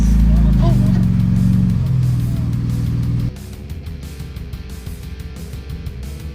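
A car engine labours up a steep rocky hill on an NSW track while running very hot, its low droning rumble loud and close for about three seconds before dropping to a quieter, rougher hum.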